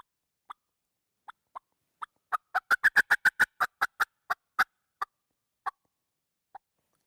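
Handheld turkey call imitating a hen flying down off the roost: sparse clucks that speed into a rapid burst of yelps, then slow and taper off, crisp and close.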